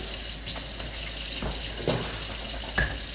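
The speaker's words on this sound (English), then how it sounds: "I gotta wash my hands." Hot water runs steadily from a kitchen tap for hand washing while cooking, a constant hiss with a few faint splashes and knocks, no voices.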